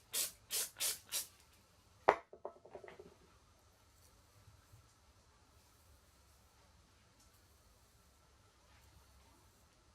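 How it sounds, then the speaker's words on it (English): Hairspray sprayed onto hair in four quick close hissing bursts at the start, then a few small clicks and handling noises before near silence. "So if you feel like you need more hairspray,"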